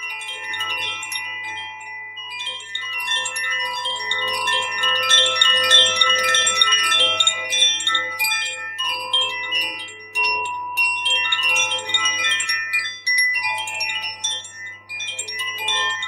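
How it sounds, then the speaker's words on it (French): A wind chime played for energy healing, bright metallic tones ringing continuously in quick overlapping strikes that shimmer and sustain throughout, close and clear with no voices. "je disais que je faisais un petit peu de carillon"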